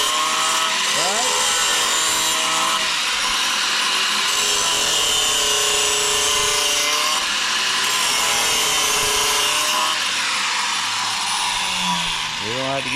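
An angle grinder with a 7-inch cutting wheel bites into metal on an F100 truck radiator job, a loud, sustained harsh grinding with shifting whining tones throughout and voices occasionally underneath.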